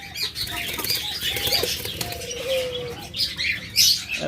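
A pair of yellow, red-eyed lutino lovebirds gives short chirps and tweets amid bursts of wing flapping, close by, with busy bird chatter from other cage birds around.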